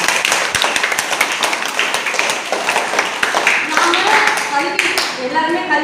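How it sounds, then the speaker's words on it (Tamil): A school audience at a student education day celebration claps in a busy, uneven burst of many hands, with voices mixed in and speech emerging as the clapping fades. "அவருக்கு ஒரு சிறப்பான கைத்தட்டல்."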